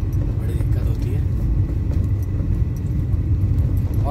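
A car rumbles slowly out through a narrow, congested residential lane, its low engine drone steady and close, with people talking over it throughout.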